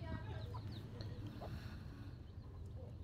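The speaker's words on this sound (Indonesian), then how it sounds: "Ayam dalam bahasa Jawa disebut pitik." Chickens cluck in short, scattered calls over a low, steady background rumble, fairly faint and somewhat distant, with no talk.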